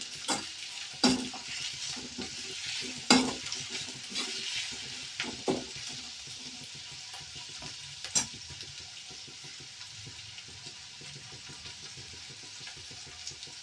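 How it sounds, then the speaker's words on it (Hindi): Onions frying with fenugreek seeds in a pan for a Srinagar-style fish dish sizzle steadily and close, broken early by loud scraping stirs and utensil knocks, then settle into a quieter, even fry without talking. "और अब डालूंगी मैं प्याज। प्याज भून लेंगे अच्छे से।"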